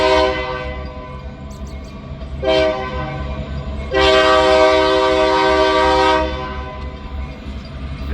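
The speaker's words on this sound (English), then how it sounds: "Who cares about a big train coming down the line?" A big train passes at a crossing and sounds its horn in two blasts, a short one and then a long sustained chord, over a steady low rumble of rolling wagons.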